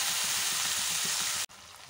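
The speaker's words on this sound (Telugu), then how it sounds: "టమాటా ముక్కలు వేసుకున్నాం కదా, ఇవి సాఫ్ట్గా అయ్యేదాకా కొంచెం సేపు మగ్గించుకుందాం." Tomato pieces sizzle and steam in a hot pan for a country-style broad bean (chikkudukaya) curry, a steady close hiss of frying that cuts off abruptly near the end.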